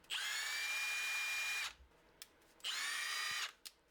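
A Milwaukee cordless brushless impact wrench motor with a mode fault whirs at high pitch in two bursts, each about a second and a half long, with small clicks in the gaps between.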